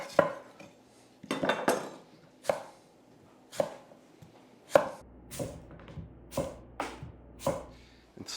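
A local orchard apple sliced on a board with a knife: about a dozen crisp, close chopping knocks in an uneven rhythm, some in quick clusters, with no talking.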